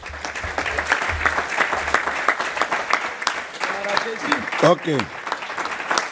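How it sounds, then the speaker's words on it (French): A church congregation claps together in a lively burst of applause, moderately loud and close, with voices and a short spoken remark rising through the clapping toward the end. "Nous pouvons acclamer le Seigneur"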